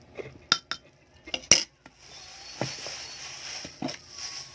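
A metal spoon clinks and taps against a cup as a spoonful of turmeric tea powder goes in; several sharp, close clinks and scrapes come in short bursts with quiet pauses between.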